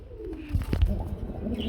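Pigeons kept for sale coo softly nearby, a couple of low, brief coos rising over a quiet background.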